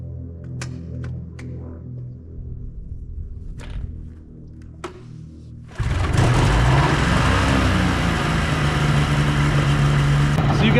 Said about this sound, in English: I'm gonna show you what it takes to get a little pull start 377 going.